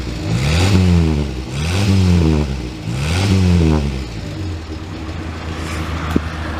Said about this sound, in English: I'll listen to the exhaust